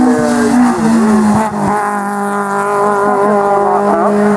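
A Peugeot 205 GTI race car in the 1600 class climbs a hill course, its engine note loud and close, rising and falling through gear changes with a brief dip around the shift before pulling hard again.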